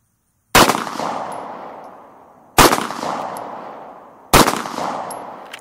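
Three loud, sharp HK VP9 pistol shots fired at about 21 feet, spaced roughly two seconds apart, each with a sudden crack and a long ringing decay, with no talking between them.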